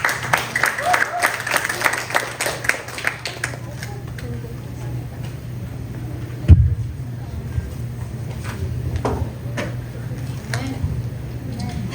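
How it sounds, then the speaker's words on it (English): A church congregation at a sermon on family claps in a brisk burst of applause that thins out after a few seconds, leaving scattered claps and room noise with voices. "A round of applause, please."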